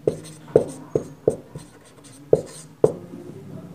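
Pen writing a math solution by hand for a Pythagoras theorem proof, with sharp scratchy strokes and taps spaced irregularly across the clip, close and fairly loud, with no voice.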